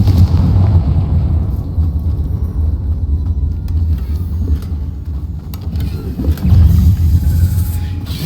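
Confringo explosive spell in the video game Hogwarts Legacy, a heavy rumbling blast that rolls on as a continuous low roar with further swells near the end, loud and close.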